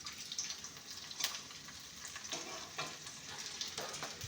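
Chopped green chilies sizzle and fry in a pan over a medium flame, a steady crackling hiss with scattered louder pops and brief stirring scrapes, close and continuous with no talking.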